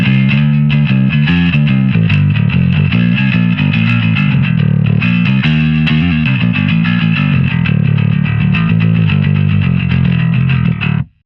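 Heavily distorted metal bass riffs play through a Jensen Smooth 10-inch speaker, a loud continuous run of chugging notes with a gritty edge that stops abruptly at the end.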